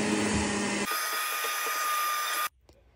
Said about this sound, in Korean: 청소기로 모래를 흡수해 줄게요.